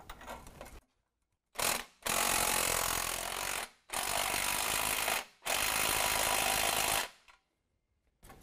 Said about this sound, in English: we're going to go ahead and go through and tighten up all of our band clamps. It's going to be a 16 millimeter.